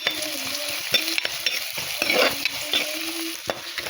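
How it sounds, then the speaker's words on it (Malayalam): Chopped onion, ginger, garlic and green chilli frying in a pan for a Kerala fish curry, with a loud continuous sizzle up close and a spoon scraping and knocking against the pan at irregular intervals. "ഇതിലോട്ട് നമ്മൾ ഉള്ളി, ഇഞ്ചി, വെളുത്തുള്ളി എല്ലാം അരിഞ്ഞത് ഇട്ട് കൊടുക്കുക"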